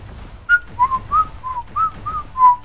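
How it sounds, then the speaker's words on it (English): A person whistles a short tune close to the microphone, a string of about eight clear, bright notes with small pauses between them, alone with no talking. "don't whistle into the microphone. It never sounds good."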